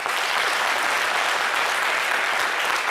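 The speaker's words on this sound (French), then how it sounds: "Si vous le connaissez, applaudissez, on va voir." A television studio audience bursts into vigorous applause, a loud, continuous wash of clapping from many hands that holds steady from start to finish.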